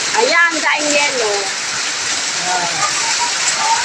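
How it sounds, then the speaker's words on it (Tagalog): Hail and heavy rain pour down in a storm in Fairview, a dense, steady hiss with a constant wash of impacts, while a person talks excitedly over it near the start and again later. "Umulan ng yelo, ang lakas ng ulan."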